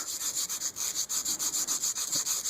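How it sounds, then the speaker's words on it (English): Compressed charcoal stick being sharpened for drawing, a steady run of short rhythmic scraping rubs, close and fairly quiet, with no voices. "the tip of my charcoal's already dull. Sharpened it again."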